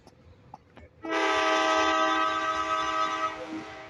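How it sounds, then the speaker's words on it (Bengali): In a simulator game, a train sounds a long, loud horn blast lasting a couple of seconds as it starts to pull away, after a few faint knocks. "এই ট্রেন চলে যাচ্ছে"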